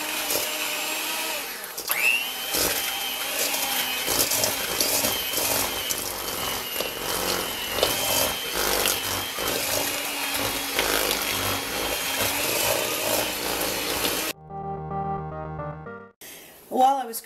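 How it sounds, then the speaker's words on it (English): An electric mixer beats cream cheese and sugar, a steady whirring motor hum with some scraping against the bowl for most of the stretch, then a short pause and quieter bursts of the motor. "I'm going to beat together the cream cheese and the sugar"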